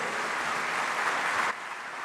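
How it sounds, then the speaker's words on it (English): Audience applause at the Afreximbank annual meetings, a steady wash of clapping from a large hall for about a second and a half that then drops abruptly to a softer level. "Ladies and gentlemen, he's yours for the applause."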